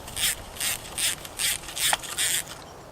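A ratchet wrench backs bolts out of a Husqvarna 44 chainsaw during disassembly, giving six quick clicking bursts in an even rhythm, close and clear, with no talking.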